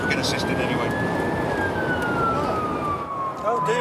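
A police car siren wails steadily on a motorway, its pitch gliding slowly upward then falling as the vehicle approaches, heard over loud, constant road and engine rumble inside a moving car heading toward an injury road accident.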